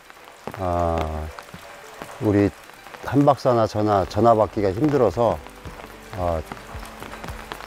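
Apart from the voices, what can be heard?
rain falling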